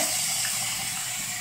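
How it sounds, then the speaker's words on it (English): Warm water runs from a tap into a sink in a steady, hissing stream, close and continuous, with no talking. "So this is warm water now."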